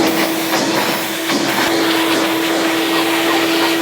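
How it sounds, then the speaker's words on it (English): Shop vac running steadily while vacuuming sawdust off freshly sanded wood before staining, a loud continuous motor whine with a steady tone and brushing surges as the nozzle passes over the surface. "we are going to hit these with the shop vac real quick"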